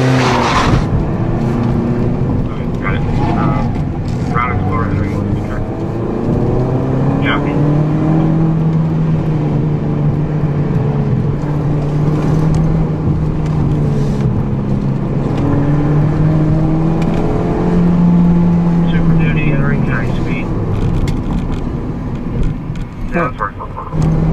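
A 2014 Ford Fiesta running an autocross course, its engine droning and swelling through repeated rises and falls in revs, with occasional tire noise and a voice talking over it.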